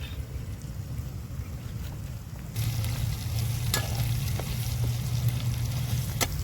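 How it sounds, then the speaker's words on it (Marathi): Eggs fry in a pan for egg bhurji, cooked outdoors at a village house, with a low crackling sizzle that grows louder partway through. Occasional utensil clicks mark the stirring, and a low hum runs beneath. "आईने घेतली वाटीतली अंडी सगळी टाकून अंडी तळून झाली की आई सगळं मिक्स करून घेणार आहे"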